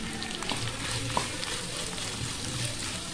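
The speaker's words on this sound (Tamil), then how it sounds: "சின்ன பொடி பொடியா நறுக்கி வச்சுக்க வெங்காயம் போட்டுக்கலாம்." Four medium onions, chopped small, fry in hot oil in a pan, giving a steady, dense sizzle up close with a faint stir or two.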